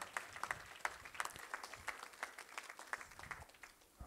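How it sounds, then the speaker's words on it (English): Faint applause from a wedding crowd, steady clapping carrying on for a few seconds with no voices. "Yes, round of applause."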